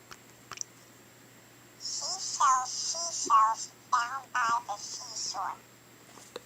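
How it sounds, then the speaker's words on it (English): Short bursts of a voice processed to sound unnaturally high-pitched and squeaky, like helium speech, spoken in a few phrases with brief pauses. "It makes it high pitched, just as how helium would do."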